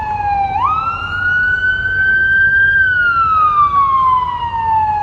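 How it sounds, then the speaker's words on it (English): A fire engine siren wails loud and steady throughout, its pitch sweeping up early, holding high, then slowly falling as it passes, with a low road rumble underneath. "This is always a good sign when the fire engine shuts off."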